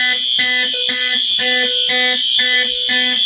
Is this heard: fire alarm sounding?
yes